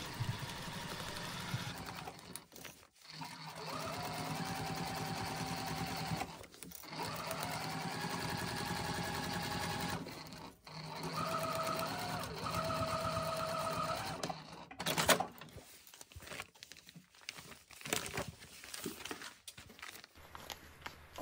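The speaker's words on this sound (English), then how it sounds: "And then just finishing up this seam to the end and back stitching when you get to the end." A sewing machine stitches a quilt seam, running in several bursts with brief pauses between them and a short reverse run for back stitching. Its steady mechanical hum is close and fairly loud.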